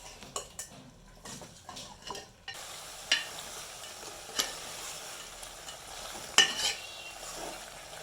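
Country chicken curry is stirred in a pan, with a spoon scraping and clinking against the metal in irregular strokes over a low sizzle, some knocks louder than others; no talking.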